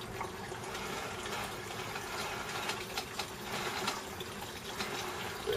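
Apple juice streaming out of a cider press as the apple mash is squeezed, a steady watery gush and trickle at moderate level with small splashy fluctuations, no voices.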